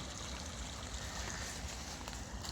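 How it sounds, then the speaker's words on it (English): Rainwater from a tropical storm runs off a road into a small roadside drainage ditch, making a steady, soft rushing and trickling wash that stays even throughout with no voices. "You can actually see the water flowing from this rain still as it's running off the road in the little drainage ditch"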